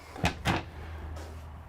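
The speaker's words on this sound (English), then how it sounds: "You notice these doors don't shake or anything when I open them." Cabinet doors in a 2020 Renegade Valencia 35MB RV are opened and shut, giving two quick, close knocks about a quarter second apart, followed by a quiet steady hum.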